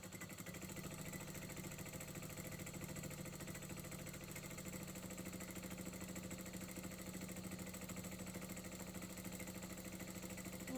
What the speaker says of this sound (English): So pop it under your machine, stitch forward and back.